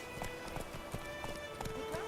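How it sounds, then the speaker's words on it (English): Horse hooves clip-clop at a steady trotting rhythm in The Witcher 3 video game, each hoofbeat a distinct close knock repeating about every third of a second over a quiet ambient background. "if I just push forward, the horse moves forward"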